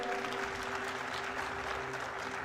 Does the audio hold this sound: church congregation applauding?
yes